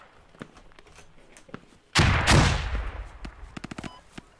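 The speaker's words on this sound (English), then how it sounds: "Shots fired west, squad 3. It's taking fire." Gunfire erupts in the military shooter Squad: a sudden loud burst of shots and impacts, followed by a string of sharp rapid cracks, with faint scattered shots before it.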